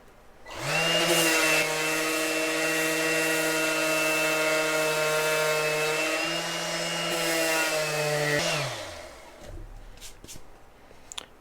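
Electric sander with 80 grit sandpaper pressed down on SmartCore vinyl flooring in a mobile home, a loud steady motor whine that starts abruptly, holds about eight seconds, then winds down.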